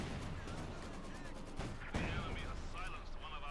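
Tank battle in the Company of Heroes 2 game with an IS-2 heavy tank firing: a steady bed of gunfire and explosions runs throughout, with sharper cannon-like blasts near the middle under continuous battle noise.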